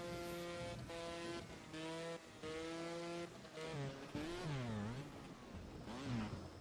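A motorbike engine throttling in the video game Trials Fusion, steady revving that rises and falls in pitch and swoops through several bursts of acceleration, loud and continuous.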